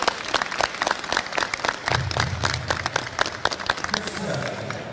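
A group at a Brazilian jiu-jitsu seminar claps in scattered, uneven bursts, a short round of applause with some voices murmuring underneath.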